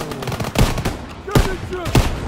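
Machine-gun fire crackles in a World War II shooter game, with several loud, sharp bursts at irregular intervals over a busy battle din.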